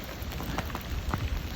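Heavy, torrential rain pouring down on a garden with a dense, hissing wash and a few louder drops spattering close by, continuous and loud for a brief moment.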